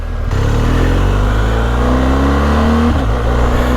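A BMW R 1250 GS motorcycle ridden at low speed with a quick shifter, a loud, close engine drone rising in pitch, then a brief dip near the end as a gear change jerks through.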